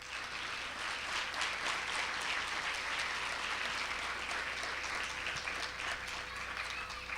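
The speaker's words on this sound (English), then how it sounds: "Let's have a round of applause for these students." Dense, sustained applause from a large audience honoring students at a school board awards event, steady and loud from start to finish with no talk over it.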